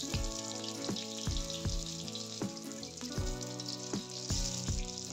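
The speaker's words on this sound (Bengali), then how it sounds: "এবার আমি আলুগুলোকে ভেজে নেব।" Potatoes sizzle and crackle steadily in a little oil in a karahi, close and continuous, while a regular clanking of utensils against the pan repeats about once a second over the hiss.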